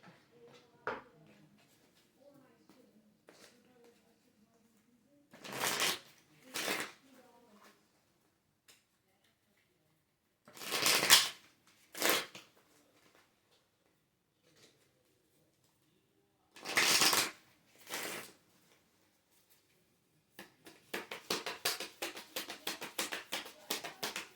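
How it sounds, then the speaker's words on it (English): Kali oracle cards being shuffled and riffled by hand, heard as separate bursts of papery flapping with pauses between them, then a long run of rapid crisp flicks near the end, close and fairly quiet with no talking. "So let's pull some Kali cards."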